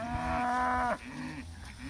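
Cows bawling for their calves on a grazing farm: a long, loud, close moo that breaks off, followed by lower, quieter lowing from other cattle.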